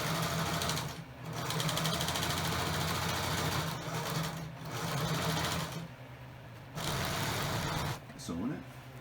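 A sewing machine stitches boat seat fabric with a steady motorized whir, running in long bursts that pause briefly and resume, with people talking over it.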